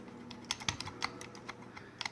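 An Ulticlip 3 clip on an INCOG holster is moved and flexed, giving a string of quiet, irregular plastic clicks and light rattles, some in quick pairs, with no talking.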